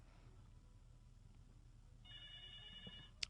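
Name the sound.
telephone ringing in the background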